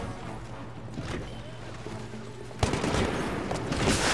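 Gunfire from a Titanfall match: scattered shots, then a dense, loud fusillade of automatic fire breaking out partway through and continuing to the end, with no voices over it.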